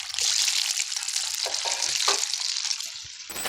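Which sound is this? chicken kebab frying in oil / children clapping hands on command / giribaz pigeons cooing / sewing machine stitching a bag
chicken kebab frying in oil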